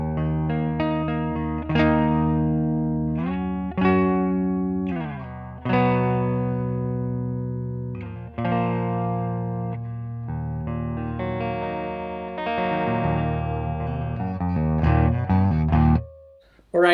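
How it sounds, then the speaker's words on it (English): Bugera V55HD Infinium tube guitar amplifier on its clean channel with the neck pickup, played as sustained strummed chords with bright ringing harmonics, each chord struck and left to decay, loud and close with no talking. "this is how it sounds when I'm on the clean channel."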